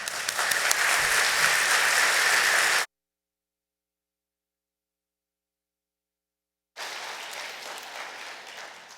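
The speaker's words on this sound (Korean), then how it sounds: "올라오실 때에 뉴성의 뜨거운 박수로 환영해 주시기를 바랍니다." A church congregation at a Sunday worship service applauds warmly to welcome a guest pastor, a dense steady clapping that breaks off into silence midway before resuming.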